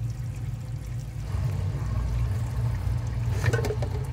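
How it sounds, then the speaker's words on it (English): A dishwasher in its rinse cycle runs with a low motor hum beneath softly rushing, splashing water, and the splashing grows a little busier near the end. "we'll see what happens when it goes into the rinse cycle"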